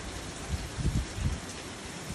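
Heavy rain pours down in a dense, steady roar, with a few low thumping gusts underneath.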